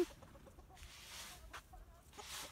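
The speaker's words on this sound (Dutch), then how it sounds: "Dat zijn de kippies en de haan." Chickens and a rooster cluck softly in short bursts, faint and somewhat distant against a noisy background.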